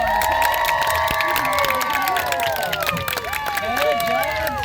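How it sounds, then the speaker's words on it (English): A crowd at a state fair wolf show cheers and applauds, with excited shouting from children over steady clapping, loud and lively throughout. "Maybe if you guys would give him a really big round of applause."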